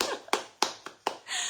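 A few separate hand claps, about four sharp slaps spaced roughly a third of a second apart, close and fairly quiet, alone without talk.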